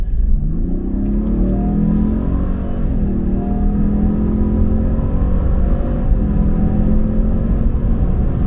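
A Ford F150 PowerBoost hybrid pickup truck accelerates hard off the line, its engine rumbling loud and close with rising revs and a steady roar throughout, no talk.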